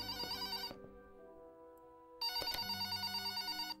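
A phone rings in the video game Lust for Darkness, a bright electronic ringtone that plays, pauses briefly, then starts again, close and clear with no talking.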